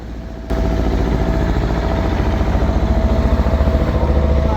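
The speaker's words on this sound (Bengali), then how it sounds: "সাগর থেকে মাছ নিয়ে একে একে ফিরে আসছে মাছ ধরার ট্রলারগুলো" A steady, throbbing diesel engine of fishing trawlers returning from the sea rumbles close by, kicking in louder after a brief moment and chugging on continuously with no voices.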